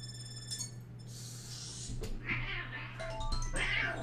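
Cartoonish cat meows from the video game Super Mario 3D World, several short high calls in quick succession over soft game music and a low steady hum.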